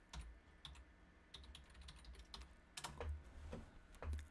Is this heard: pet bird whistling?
no